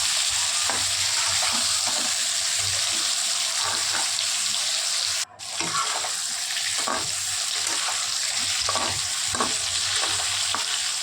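Pointed gourd and potato pieces frying in oil in a pan, a steady close sizzle running throughout, broken by scraping stirs and a brief dropout midway.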